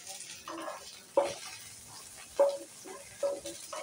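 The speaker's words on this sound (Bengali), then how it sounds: "এবার চাপা দিয়ে উচ্ছেটা একটু ভেজে নেব।" Sliced bitter gourd frying in a covered pan, a soft steady sizzle broken by several sharp clatters of stirring or the lid at uneven intervals, close and moderately loud, with no talking.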